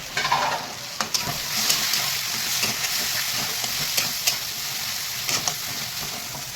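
Ground spices frying in a pan as water is poured in while cooking a Bengali fish-bone dish: a steady, loud sizzle with occasional stirring clicks and scrapes, no voices.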